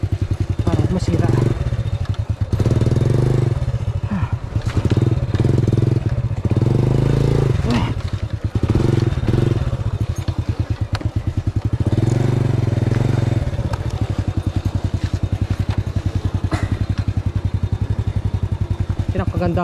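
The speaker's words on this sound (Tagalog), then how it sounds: "Kagandahan ng maganang motor." Motorcycle engine runs continuously at a low throbbing idle on a rough road trip through flooded canal terrain, with rhythmic pulsing, occasional revs and clattering scrapes, while a person talks over it.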